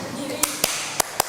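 Four sharp hand claps in an uneven pattern of two pairs, close and fairly loud, during a classroom ice-breaker clapping game, with faint voices in the background.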